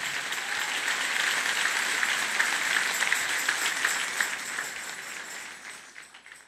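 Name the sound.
audience applause in church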